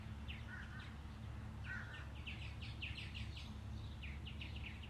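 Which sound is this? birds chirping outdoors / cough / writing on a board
birds chirping outdoors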